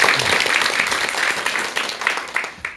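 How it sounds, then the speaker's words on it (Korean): An audience gives a full, steady round of applause as a lecture on marriage for engaged couples begins, dense clapping that fills the room for the whole stretch without talk over it. "큰 박수와 함께 전현수 박사님의 강의 청해 듣도록 하겠습니다"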